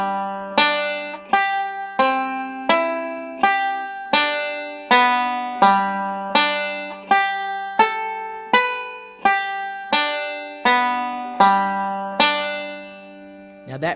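Banjo picks out the three phrases of a tune with forward and backward finger rolls, a steady run of bright plucked notes with sharp attacks and ringing decay, played close and alone.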